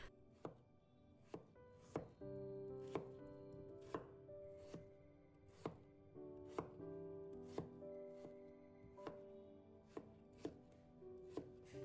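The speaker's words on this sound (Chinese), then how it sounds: "切开以后再改刀切成小块，这样就可以了。" Winter melon is cut into small pieces on a board, a faint series of about a dozen knife chops landing at a steady, unhurried pace with no speech.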